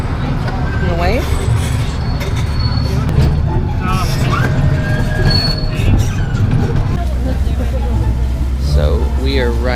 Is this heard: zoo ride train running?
yes